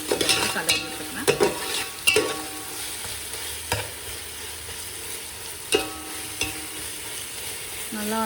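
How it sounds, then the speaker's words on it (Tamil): A spoon stirring ginger garlic paste frying with onions in a pot for mutton biryani, with steady sizzling and intermittent scraping clinks against the metal, close and alone without talk. "இப்போ நான் வந்து நல்லா கலரி விட்டுக்கிறேன்."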